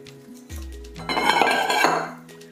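Chopped leeks, celery and crushed tomatoes go into a cooking pot for a brown poultry stock, with a clink of metal followed by a soft tumbling, sizzling rush of ingredients landing close by.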